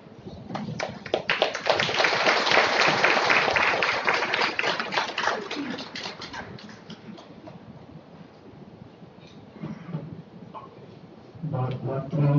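Applause from a seated audience after a spiritual class by BK Geeta Didi at Gyan Sarovar, a dense stretch of many hands clapping that swells, holds, then thins out, with a second burst rising at the end.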